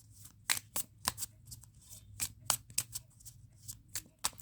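A deck of tarot cards is shuffled by hand in a series of sharp, papery riffles and slaps, close and moderately quiet, irregularly spaced with no talking.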